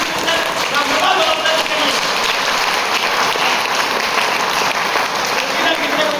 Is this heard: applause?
yes